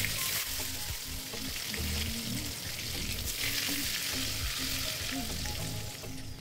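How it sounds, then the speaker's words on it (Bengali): Paratha and eggplant slices fry in a pan at home, giving a steady, dense sizzle with occasional stirring clatter throughout, close and fairly loud with no talk. "আমার জন্য পরোটা ভাজছে, আর আমি এদিকে বেগুন ভাজাটাও করে নিচ্ছি"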